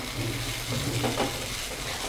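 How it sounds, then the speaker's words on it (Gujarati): Spoon stirring peanut and potato khichdi with lemon and sugar in a pan, a steady soft scraping and light sizzle running throughout at moderate level, no talking. "હવે હલાવી લઈએ।"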